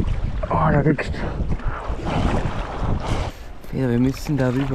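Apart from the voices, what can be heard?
strong wind while paddling on water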